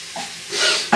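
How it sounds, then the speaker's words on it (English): Chilli sizzling in a hot pan as it is stirred, a brief bright hiss that swells and fades, then ends with a sharp scraping burst. "I'm just going to stir all this up."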